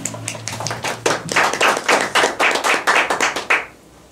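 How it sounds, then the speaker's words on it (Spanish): An audience claps at a talk on rural-to-urban transformation, a moderately close round of rhythmic hand claps that builds, holds briefly, and stops abruptly after about three and a half seconds. "la doctora Soraya Melchor Barrera, para quien pido un fuerte aplauso."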